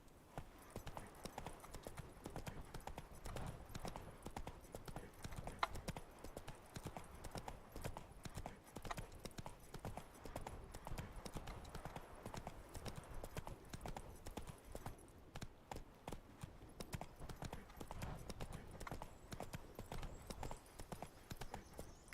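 Roach the horse gallops in The Witcher 3, a steady rapid clip-clop of hooves running continuously at moderate level over soft ambient game sound, with no talk over it.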